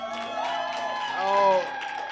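A church congregation cheers and claps, with voices shouting and whooping over a steady wash of crowd noise that swells briefly near the end.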